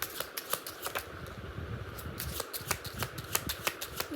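Tarot cards being shuffled by hand, a steady run of crisp, rapid riffling snaps and soft flutters close to the microphone, with no voices.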